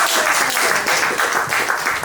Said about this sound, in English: Round of applause for the science department.